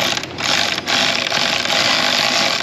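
Close, loud, continuous ratcheting as a wrench threads and torques clips on the engine of a BMW 530i 3.0 that is running rough, a dense mechanical clicking with no speech.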